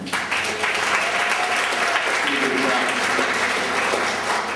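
Long-time radio listeners in a convention audience clap together, a sustained crowd applause at even level, with a voice briefly audible beneath it.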